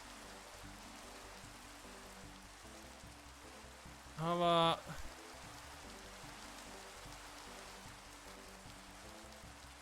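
Steady, faint rain falls in the video game Minecraft, a soft continuous hiss, briefly interrupted by a short spoken word in Icelandic midway.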